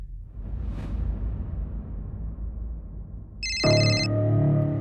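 A telephone rings unanswered, its electronic ringtone cutting in suddenly near the end, loud and near, after a stretch of low background rumble.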